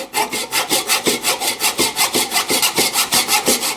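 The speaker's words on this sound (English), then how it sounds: "Yeah, even now the saw feels a little bit grabby in there." Hand saw cutting wood for a half lap joint, with steady rhythmic strokes, about five or six per second, rasping loudly and close with no talking.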